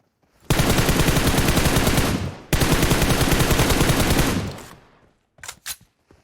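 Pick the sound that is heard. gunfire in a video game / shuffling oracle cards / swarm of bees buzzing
gunfire in a video game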